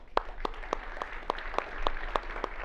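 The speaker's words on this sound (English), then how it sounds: "So a round of applause for all of them." Sparse, slow claps for the sponsors and judges of an all-stars event, about ten distinct sharp hand claps in a steady rhythm, fairly close and alone without talk.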